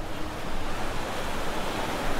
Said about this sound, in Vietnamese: Đây là biển Cancun.